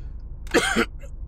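A single short throaty cough, close and brief, in an otherwise quiet moment.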